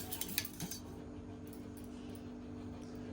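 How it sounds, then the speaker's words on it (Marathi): Curd whisked in a bowl with a utensil, a few quick clinking scrapes at the start, then a faint, steady stirring hiss, all quiet and close with no talking. "दही फक्त असं फेटून घ्यायचं आहे चांगलं"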